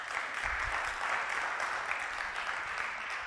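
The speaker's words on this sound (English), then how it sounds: "For Jesse, you have to give a round of applause." An audience at a trading seminar gives a round of applause, a steady, dense wash of clapping that holds evenly for a few seconds, moderately loud and without voices over it.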